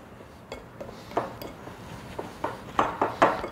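Butter being mashed and pressed into dry cake mix in a bowl for an apple devil's food caramel cake, heard as scattered soft scrapes and light clinks of utensil against bowl, growing a little louder toward the end, with no talking.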